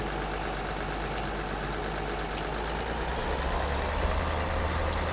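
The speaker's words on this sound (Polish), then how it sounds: "jak się opuści te pługi i jest obciążenie, to od razu idzie większa moc silnika" In Farming Simulator 2013, a tractor engine drones steadily and loudly as it pulls lowered ploughs under load, a constant low hum that swells slightly toward the end, with no voices.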